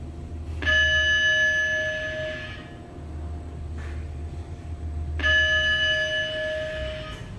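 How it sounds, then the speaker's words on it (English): Two-tone chime from a 2016 Schindler 3300 MRL traction elevator at a hotel in Stafford, Texas, ringing twice with several seconds between the tones, clear over a low steady hum. "love that chime."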